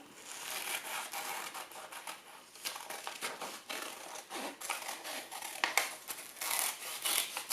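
Scissors snip steadily through paper while cutting out a craft shape, a close run of crisp, rhythmic cuts with soft crinkling as the sheet shifts.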